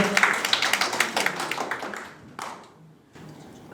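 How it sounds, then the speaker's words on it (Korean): An audience at a youth history research contest presentation in Jeonnam gives a short round of clapping that is moderately loud and rhythmic for about two seconds, then thins out into quiet room tone. "네, 큰 박수 한번 주세요."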